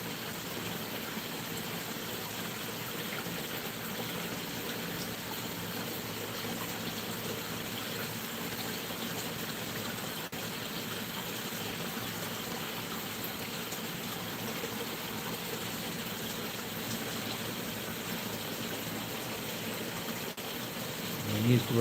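Creek water runs steadily as a broadband wash at a fish and shrimp farm, with freshwater shrimp being released into it, holding even and moderately loud throughout with no other clear sounds over it.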